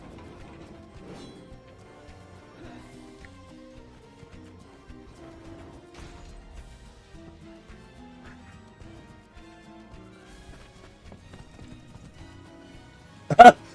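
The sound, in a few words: horse hooves clip-clopping in Gold Mining Simulator video game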